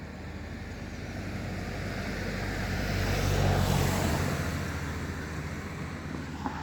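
A car passes on a road beside a railway overbridge, a steady broadband roar that swells to a peak mid-pass and then fades away, with wind rumble underneath.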